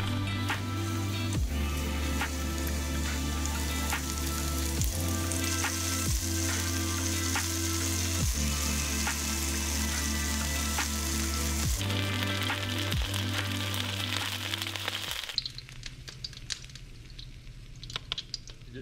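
Steady, dense sizzling of venison frying in hot oil, crackling continuously at close range, fading out near the end.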